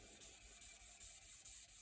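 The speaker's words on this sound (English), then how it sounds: "because we're going to be wet sanding this." Steady rhythmic wet sanding of wooden pool table rails, soft strokes repeating about every quarter second, quiet and close.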